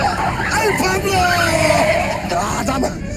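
A car driven along an empty road gives a continuous engine and road drone with brief tire-like squeals, while voices talk over it.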